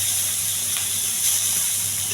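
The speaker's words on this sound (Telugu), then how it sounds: "ఉల్లిపాయ బాగా వేగిందండి." Onions frying in oil with curry leaves and green chillies, a steady close sizzling hiss that holds evenly throughout.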